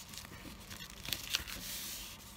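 Paper being folded and handled for a koinobori carp streamer decoration makes soft crinkling and rustling, with a few sharper crisp crackles, quiet and close with no talking.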